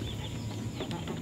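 A small pet rooster gives soft, low clucks against steady background noise, close by and brief.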